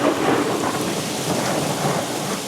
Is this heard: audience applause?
no